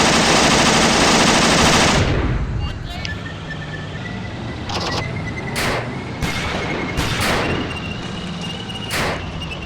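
In the World War II game Achtung Panzer, an enemy British universal carrier fires its machine gun in loud, rapid bursts, followed by scattered gunfire cracks and rumbling battle noise at a distance.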